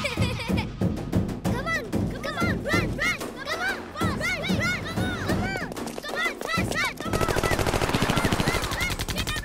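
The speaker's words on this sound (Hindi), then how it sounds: "ये असली गन छे" Real guns fire in a comedy film scene, dense bursts of rapid machine-gun fire with thuds and scattered crowd sounds, loud and close, ending in sustained rattling.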